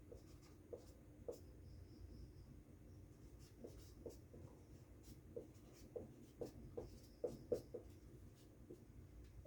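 Pen or pencil writing by hand on paper while working through an HTML exam answer, a steady run of soft scratchy strokes with small taps, close and quiet, no talk.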